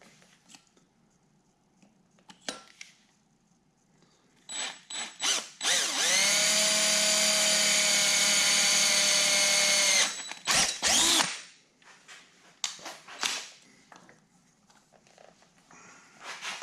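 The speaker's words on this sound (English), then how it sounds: "let's drill both holes to the smaller diameter of the taper pin" A power drill bores taper pin holes in a part for a Kearney & Trecker horizontal milling machine. Short bursts are followed by a loud, steady, high whine for several seconds, with clicks and handling noise on either side.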